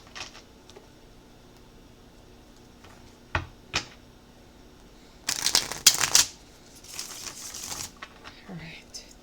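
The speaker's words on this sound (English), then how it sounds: "Alright, 2 more shuffles" A tarot card deck being shuffled, with a few isolated card taps followed by a loud burst of riffling and crisp flapping, then softer shuffling; a voice speaks quietly at times.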